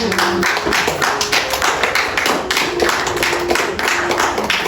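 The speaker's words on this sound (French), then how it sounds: "Sois libre et nous acclamons le Seigneur" A church congregation claps together loudly at a worship service, acclaiming the Lord, with rapid continuous hand claps over a faint sustained tone and murmuring voices.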